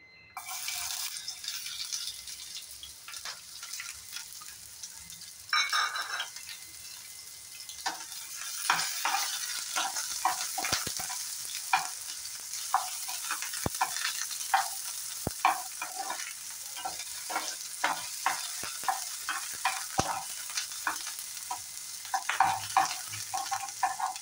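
Onions sizzle in a hot pan for an okra dish while a spoon stirs and scrapes through them, a steady close frying hiss broken by frequent sharp clinks and scrapes, with no talking.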